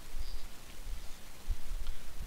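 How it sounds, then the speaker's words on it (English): Steady rain falls in a Minecraft game, a constant close patter of drops on surfaces with occasional brighter splashes and no voices. "it's raining again"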